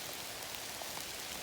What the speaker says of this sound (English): It is an awful rainy day.